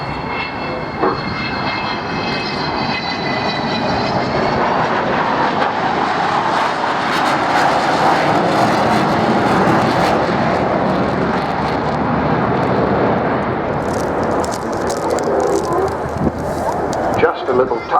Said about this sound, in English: a touch on the throttles of the four Rolls-Royce Bristol Olympus 202